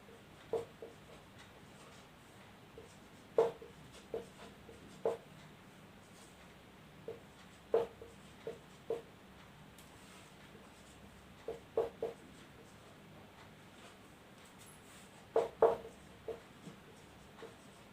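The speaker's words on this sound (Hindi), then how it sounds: "मैं कुछ एग्जांपल्स लिखती हूँ" Examples being written by hand during a physics class, quiet scratchy pen or chalk strokes in short irregular clusters with pauses between, close and faint over a low room hum.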